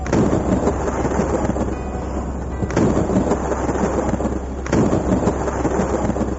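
Heavy thunderstorm rain as a narrative sound effect, a dense continuous downpour hiss with low rolling thunder rumbles swelling at intervals, loud and close throughout.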